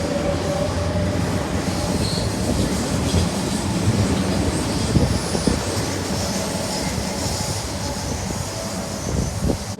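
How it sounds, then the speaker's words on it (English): A train passes close by on a windy morning, its heavy rumble and rolling wheel noise holding steady and loud from start to finish with no talking over it. "here goes that other train."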